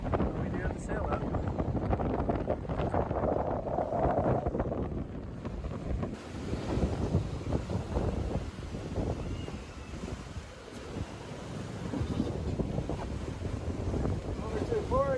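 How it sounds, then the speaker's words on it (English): A sailboat motor-sails into a headwind with its sail up near Fisher Island, giving a steady low engine rumble under heavy buffeting wind noise and water wash. "just doing a little bit of motor sailing right now because the wind is straight off our bow"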